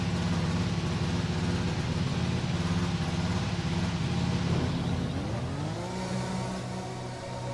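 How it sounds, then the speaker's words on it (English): F1 car engine from the F1 2020 racing game, droning steadily with a rising, revving pitch sweep near the end, loud and continuous with no talk. "let's just hear this baby fire up"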